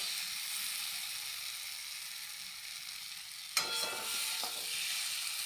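Eggs frying in a pan for an egg curry hiss steadily, then erupt into a sharp, louder burst of sizzling as a splash of water hits the hot oil, settling back into a crackling simmer.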